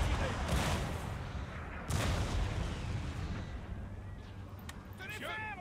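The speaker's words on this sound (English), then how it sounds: "Cannons fire this barrage and then halts for a minute." A cannon barrage in Napoleon: Total War, with two heavy booms early on and then rolling battlefield rumble and distant crackling shots that fade toward the end.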